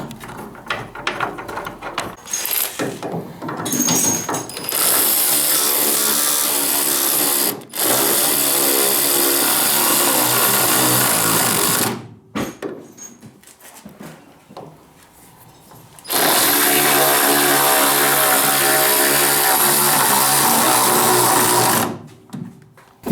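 Power tool whirring in long mechanical bursts while suspension parts are bolted into a K-swapped Honda Civic, three extended runs separated by quieter pauses, loud and close.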